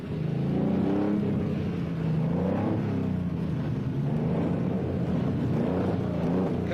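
A Peugeot rally car in the 1977 East African Safari Rally pulling away, a loud continuous engine drone rising and falling as it accelerates, close and dominant throughout.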